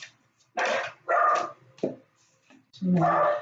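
A dog barks in several sharp bursts at close range, with short pauses between the loud yaps and a whimpering edge to some of them.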